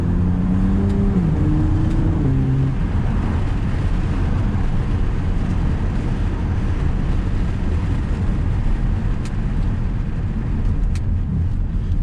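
BMW Z4 35is roadster accelerating gently on a road in Normandy, a loud steady engine drone and road rumble heard from close by, with no talk.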